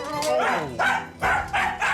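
An aggressive terrier barking and yapping close by, four or five sharp, rapid barks in quick succession with brief whiny edges, loud and near.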